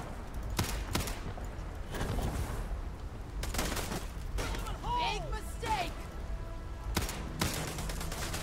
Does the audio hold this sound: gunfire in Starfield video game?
yes